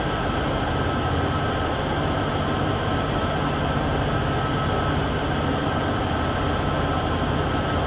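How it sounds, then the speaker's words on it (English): Union Pacific locomotives run on the Cheyenne to Laramie line in Train Sim World 6, a loud, steady, unbroken engine roar and rumble with a faint high whine above it. "These locos are having no problem."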